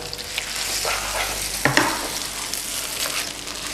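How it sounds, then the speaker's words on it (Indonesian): Spaghetti with red tomato pesto stirred in a pan, a steady soft sizzle with scraping utensil strokes and one brief clatter near the middle, close and alone. "Langsung aja semua dah ya, kita bikin banyakan aja, kita aduk ya."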